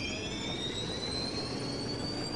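A Desert M1 Abrams tank engine in a video game roars with a steady turbine-like whine whose high pitch slowly rises, loud and continuous with no one talking.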